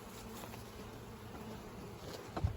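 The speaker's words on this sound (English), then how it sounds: "I'm going to shake half the bees into this box" Honeybees shaken from a frame into a nuc box, a low, steady buzzing swarm close by with a soft thump near the end.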